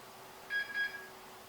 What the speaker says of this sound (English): I just had a post beep.